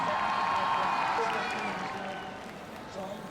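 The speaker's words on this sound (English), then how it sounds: "The crowd cheers on the home team." A crowd at a Robocon 2016 robot match cheering for the home team, a broad roar of many voices that slowly fades, with a commentator talking over it.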